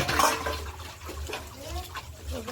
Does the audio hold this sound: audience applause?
no